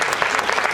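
Loud applause from an audience at a school retirement ceremony honouring Surendra sir, steady, dense clapping filling the whole moment with no voices over it.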